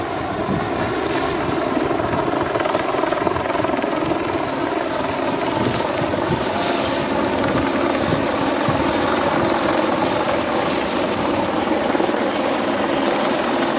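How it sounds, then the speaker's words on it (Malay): A police helicopter's rotor thumps and engine roar continuously overhead in Malaysia, loud and steady throughout, with no one talking. "Dan kelihatan helikopter polis juga beredar di kawasan ini."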